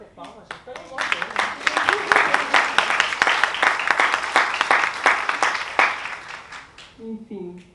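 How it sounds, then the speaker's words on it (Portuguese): Audience applause at a contemporary literature panel in Recife, a lively burst of clapping that swells after the first second and runs several seconds before tapering off, with voices heard around it. "Vamos bater palmas, gente."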